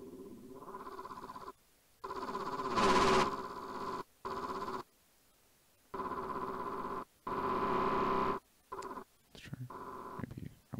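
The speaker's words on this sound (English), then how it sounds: "Ooh, and let's try maybe some tube distortion." Distorted buzzy synthesizer notes with tube distortion played in short bursts with gaps, a gritty harmonic-rich tone that starts and stops repeatedly.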